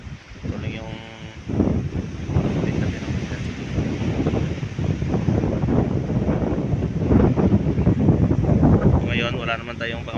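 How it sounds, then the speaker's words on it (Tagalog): Strong typhoon winds from Typhoon Kristine gust steadily across an open coast with a small boat nearby, a loud continuous roar with surf under it, while someone talks over it. "May lakas ng hangin dito sa amin mga idol."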